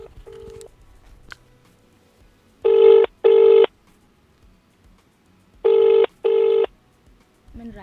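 A telephone call rings out in two pairs of loud, steady electronic ring bursts, each pair followed by a pause, after a few faint beeps and clicks at the start.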